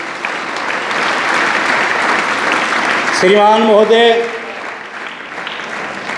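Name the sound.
audience applauding for a student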